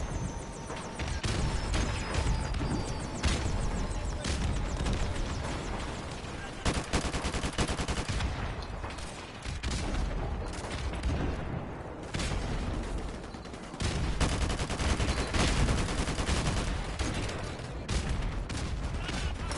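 Sustained automatic gunfire and bursts in Call of Duty: Modern Warfare Remastered, loud and dense for the whole stretch, with brief gaps between volleys and a shop roof as the target.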